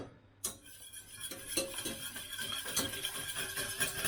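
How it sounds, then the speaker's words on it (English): Flour whisked into a vegan miso gravy, a quiet, close run of rapid metal whisk clicks and scrapes against the pan, starting after a brief silence and continuing steadily. "so I'm whisking this so the flour doesn't get too lumpy"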